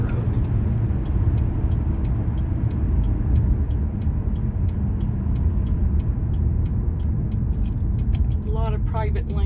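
A car driving up Hazelton Road, a mountain road with frost heaves, gives a steady low engine and road rumble throughout, with faint rattles and a brief tonal squeak near the end.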